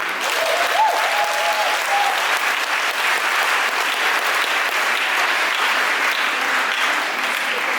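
A church congregation at a Sunday service breaks into sustained, dense applause that fills the whole stretch at a loud, even level.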